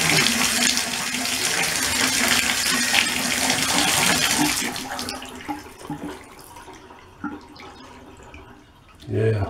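Water runs steadily into a bathtub and then drains away after the tap shuts off, leaving faint drips and gurgles, heard up close.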